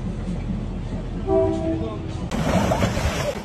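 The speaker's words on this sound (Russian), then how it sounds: "Стоит поезду приблизиться, продавцы быстро убирают свои товары и освобождают ему путь." A train passing through the Maeklong railway market in Thailand sounds a horn in a brief held tone, then a louder rumble of cars rolling close by, with a voice talking over it.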